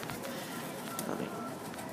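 Cuban Thief Pouter pigeons coo softly in a loft, low throaty murmurs blending with faint fluttering and general bird chatter, close but quiet, with no clear talking.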